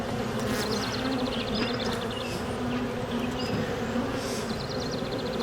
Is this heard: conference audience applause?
no